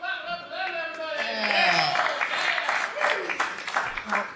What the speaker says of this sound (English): Clap it up for them, everybody.